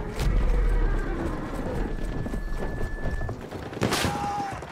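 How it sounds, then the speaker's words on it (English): Horse hooves clatter and a horse neighs in the World War I shooter Battlefield 1, loud and close against continuous battlefield noise, with a sharp whinny near the end. "I just saw this guy get like mowed down by a donkey!"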